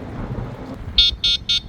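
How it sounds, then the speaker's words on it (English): Horn of an Aniioki A8 Pro Max dual-motor e-bike, sounded in three short, loud, shrill beeps close by after a moment of quiet. "Super loud horn"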